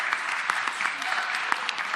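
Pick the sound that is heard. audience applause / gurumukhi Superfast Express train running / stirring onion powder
audience applause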